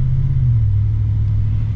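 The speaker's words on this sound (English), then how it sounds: "I love the sound you get from the exhaust." Deep, throaty exhaust rumble from a 2021 Chevy Silverado Black Widow pickup truck, a loud, steady low drone held close throughout with no talking.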